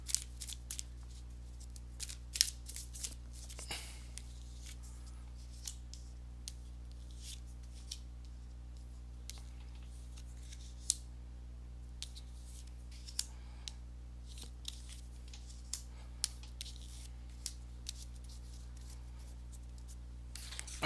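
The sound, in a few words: shuffling tarot cards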